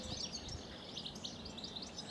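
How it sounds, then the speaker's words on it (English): Goldfinches sing on Southrepps Common in Norfolk, giving a quick run of thin, bright twittering chirps over a faint, quiet outdoor background, with no one speaking. "And listen to that bird song. There's just a plethora of goldfinches around here."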